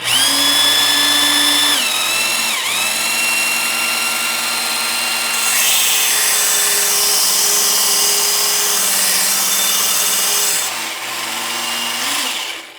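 Ken Onion edition powered sharpener grinding a lawn mower blade at fast speed: a loud, steady high-pitched whine and rasp held for many seconds, dipping briefly in pitch as the blade is pressed against the belt.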